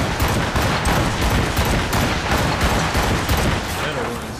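Rapid volleys of ship cannon fire in a naval battle in Assassin's Creed Rogue, loud overlapping booms in a dense barrage that runs continuously, with a voice shouting commands over it.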